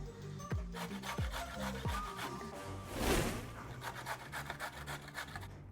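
Carrots rubbed against a metal box grater in a home kitchen, a few sharp rasping strokes followed by steadier scraping, close and fairly quiet, no talk.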